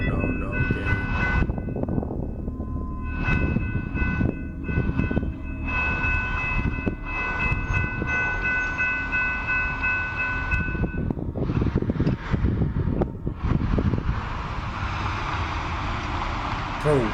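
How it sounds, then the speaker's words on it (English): A train rumbles past with rattling wagons and a few horn blasts, loud and close, with shouting voices over it. "Is that a train?"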